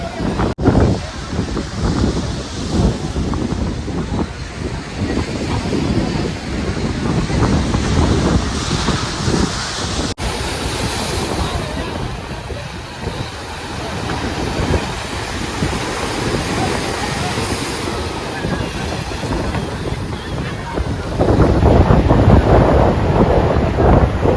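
Sea waves and strong wind at New Digha beach, with continuous loud surf rushing and heavy wind buffeting on the microphone throughout, steady and close.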